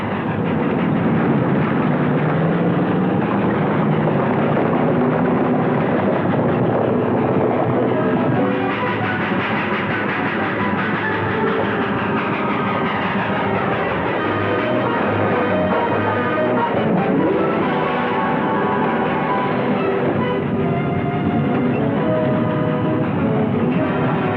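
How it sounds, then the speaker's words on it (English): Trucks approach and roll past at night in 1948 Nevada with a steady, loud, rumbling engine and road roar that swells in the middle and carries on throughout, heard through a muffled old film soundtrack with no talking. "Hey, here come the trucks."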